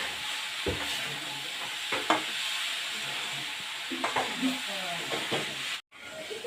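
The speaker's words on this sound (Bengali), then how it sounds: "আরো আমি 15-20 মিনিট নাড়াচাড়া করব," A sweet coconut laddu mixture being stirred in a hot pan, soft scraping and gentle sizzling with repeated spatula strokes, close by, ending in a brief drop-out.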